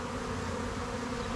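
A swarm of honeybees being moved from a swarm box into a hive hums in a dense, continuous buzz, close and steady with no voices.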